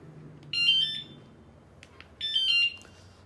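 Anti-theft alarm on a Chinese-made scooter, two short bursts of a shrill warbling electronic tone about two seconds apart, clear and close over a quiet background.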